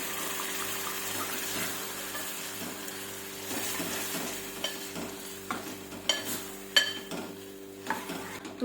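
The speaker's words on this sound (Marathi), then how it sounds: "चला आपण हे मूग टाकूया शिजलेले." Cooked moong beans go into a pan and are stirred, giving soft scraping and clinking spoon strokes with a faint sizzle under a steady low hum; no one speaks.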